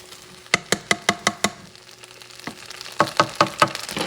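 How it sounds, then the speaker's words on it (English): A spoon scraping and knocking against a pot of jasmine coconut rice as it is stirred, a quick run of about six sharp strokes, a pause, then five more, with a low sizzle beneath. "Give it a good stir."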